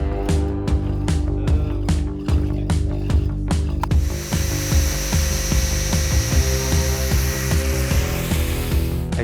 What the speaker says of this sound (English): And now let's get back to the workshop and start sawing.